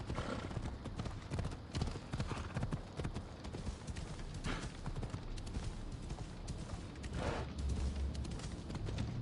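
In Assassin's Creed Odyssey, a horse gallops steadily with rapid rhythmic hoofbeats, close and fairly quiet, over low game ambience and occasional thumps.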